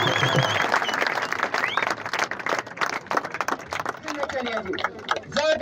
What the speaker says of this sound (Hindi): जोरदार तालियां